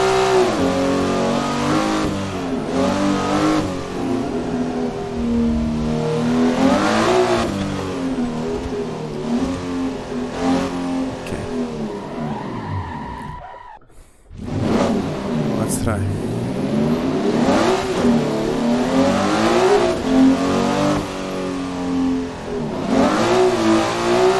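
A Nissan S15 engine revs hard and repeatedly while drifting, rising and falling in pitch, with a brief cut near the middle; a voice talks over it.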